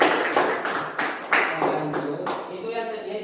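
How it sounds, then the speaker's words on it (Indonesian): Hands clap in a classroom lesson, about seven sharp separate claps at a slow, uneven pace, close and moderately loud, fading toward the end with some background voices. "Ya, tepuk tangan."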